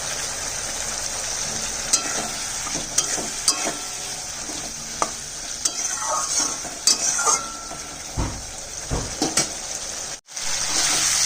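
Spice masala for a Bengali fish curry is cooked down in a pan, with a steady sizzle under repeated scrapes and clinks as it is stirred.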